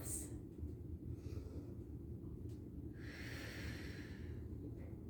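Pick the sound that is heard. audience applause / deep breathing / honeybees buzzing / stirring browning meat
deep breathing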